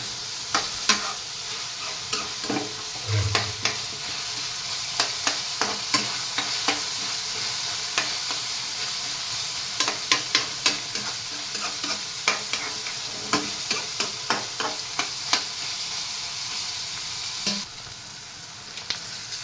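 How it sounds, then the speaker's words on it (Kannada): Chopped green chillies frying in oil on a medium flame for an egg curry, a constant sizzle broken by frequent sharp spatula scrapes and taps against the pan, close and alone with no voices. "ಸ್ವಲ್ಪ ಯೆಲ್ಲೋಯಿಶ್ ಬರೋವರೆಗೂ ಇದನ್ನು ಚೆನ್ನಾಗಿ ಫ್ರೈ ಮಾಡ್ಕೋಬೇಕಾಯ್ತು"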